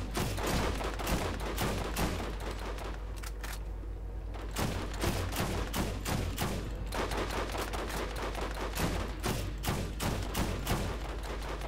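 Gunfire in Borderlands, rapid bursts of shots cracking in a dense, near-constant fusillade, with a short lull before the firing resumes hard and continues to the end.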